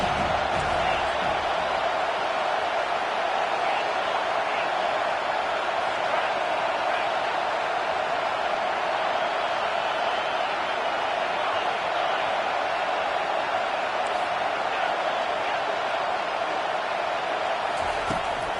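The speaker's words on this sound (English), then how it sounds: "Decibels rising as the crowd gets behind this defense on third down." Steady, loud roar of a stadium crowd in a college football video game, building on a third-down defensive stand; a dense, unbroken wall of cheering noise holds for the whole stretch with no clear voices on top.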